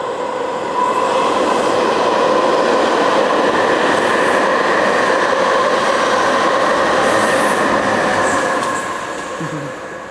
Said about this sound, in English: I see a train coming.